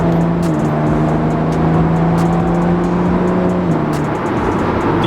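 A modified BMW Z4 runs with a steady, loud engine drone and a sustained rising turbo whine, close and continuous throughout with no talking.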